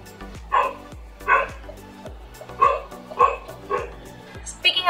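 Several sharp dog barks come in spaced bursts, fairly close and loud, with quieter gaps and faint background noise between them.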